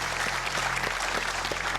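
Video game crowd applauding, a dense steady patter of clapping held at even volume throughout a short stretch, with no clear speech over it.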